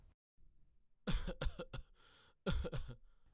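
A man coughs in a dubbed film scene, two clusters of harsh, close coughs with some throat clearing between them against a quiet background.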